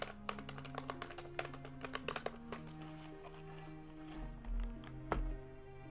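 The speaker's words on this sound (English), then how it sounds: "I'm hitting the keys on my keyboard." Computer keyboard keys are pressed in quick irregular bursts during a Doom game, crisp clicky taps near and fairly quiet, with a few heavier thumps toward the end and no talking.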